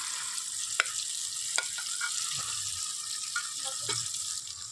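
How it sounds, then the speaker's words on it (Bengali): Almond paste frying in ghee for a halwa, stirred in the pan, gives a soft, continuous sizzling hiss with a few light scrapes, fairly quiet and close, without talk. "এবার এটাকে তুমি ভালোভাবে ঘিয়ের সাথে ভেজে নেবো। আর তুমি এটাকে এভাবে নাড়তে থাকতে হবে"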